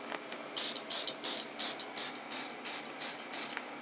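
A sprayer blasts white powder in a series of about nine short hissing bursts at a steady rhythm, each a loud close whoosh separated by brief pauses.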